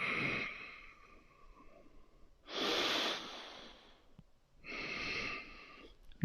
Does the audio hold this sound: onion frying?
no